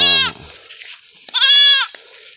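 An Anglo-Nubian goat on a farm bleats twice, two loud, close, drawn-out cries separated by about a second of quiet.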